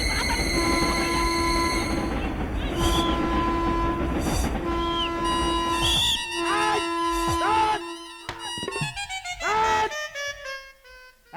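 A train rolls past on a railway track at night, loud continuous rumble with a long sustained horn, then screeching wheel squeals and tonal whines rising and falling as it passes close by.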